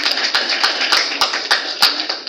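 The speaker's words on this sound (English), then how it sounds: "please a round of applause for yourselves" Applause at a cabin crew fair: a steady wash of many hands clapping, with sharp regular claps standing out on top, loud and close, no voices over it.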